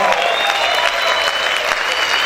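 A worship congregation claps loudly and continuously, close and dense, with some shouting mixed into the crowd noise.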